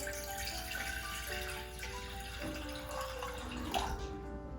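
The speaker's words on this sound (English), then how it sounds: "I'm gonna add some water" Water is poured into a pot on the stove for a lemon and herb potpourri, a steady, close running splash that lasts a few seconds with no speech over it.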